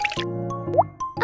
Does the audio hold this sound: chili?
no